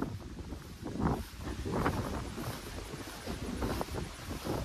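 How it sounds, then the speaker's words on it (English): Strong wind buffets the microphone on an outdoor fishing trip, making a steady, loud, rough rumble with gusty swells throughout and no other clear sound. "It's loud and very aggressive wind."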